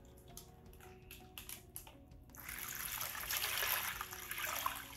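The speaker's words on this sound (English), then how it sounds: "we gotta open the bag and pour the fish in" Bag water with a fish poured into a 40-gallon breeder nano reef aquarium tank: a few faint drips and rustles, then a rising trickling splash of water that swells and continues for a couple of seconds, with no talk.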